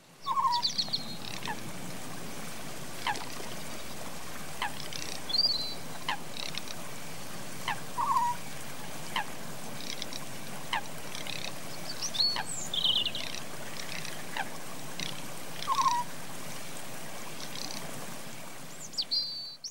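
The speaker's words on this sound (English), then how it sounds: "For this particular one, the very first one, I wanted to try and show a very calming night. So you've got a lot of owl effects," A calm night ambience for an animated short: a steady background wash with short owl-like hoots and calls recurring every few seconds, plus faint, distant frog croaks and chirps.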